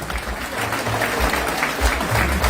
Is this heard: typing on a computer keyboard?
no